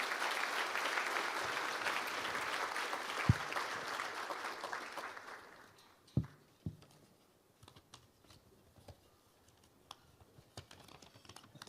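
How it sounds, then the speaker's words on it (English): Audience applause at an Ottawa community awards ceremony, a dense wash of clapping that fades out after about five seconds, followed by quiet paper shuffling and small knocks. "let's give these three outstanding organizations a big round of applause."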